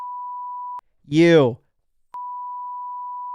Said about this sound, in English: How come the cuss words are beeping?